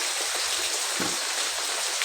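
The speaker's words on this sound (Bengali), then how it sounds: "আকাশ দিকে পুরো বৃষ্টি হচ্ছে, সকাল থেকেই বৃষ্টি হচ্ছে।" Steady morning rain pours down outdoors in an even, dense hiss that holds through the whole moment, close and fairly loud, with no voices.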